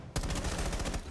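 Rapid automatic gunfire in the video game Rainbow Six Siege, a single close, loud burst of evenly spaced shots starting abruptly and rattling for about a second.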